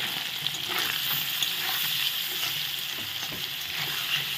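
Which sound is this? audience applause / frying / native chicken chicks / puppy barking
frying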